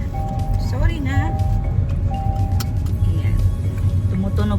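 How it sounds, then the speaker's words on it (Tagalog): A repeating electronic seatbelt warning chime from inside a car, steady tones sounding over cabin noise and people talking. "Tumutunog kasi itong sasakyan pag hindi naka-seatbelt."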